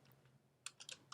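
A few quiet keystrokes click on a computer keyboard, sparse at first and then a quick cluster of taps, close and faint with no voice.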